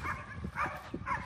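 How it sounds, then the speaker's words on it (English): A dog barks a few times in short bursts, close by, with faint rustling in the background. "that's my neighbor's dog"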